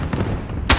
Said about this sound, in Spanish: Le di tres balazos, ahí está